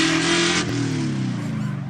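A Fox body drift car on a qualifying lap at a drift series event, its engine revving hard and loud, with the pitch climbing and wavering over about two seconds.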